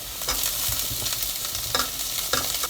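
Minced garlic sizzles and fries in olive oil in a pan, a steady crackling hiss broken by a few louder stirring scrapes, close and alone with no voices.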